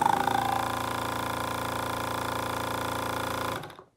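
An electric vacuum pump for a car brake booster whirs and buzzes steadily with a rapid mechanical pulsing, close by, then winds down and stops.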